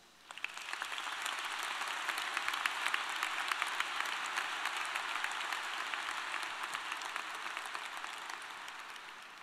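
An audience at a graduation ceremony applauds to welcome Dean Tom Robertson, with dense sustained clapping from a large crowd that rises quickly and holds steady for several seconds.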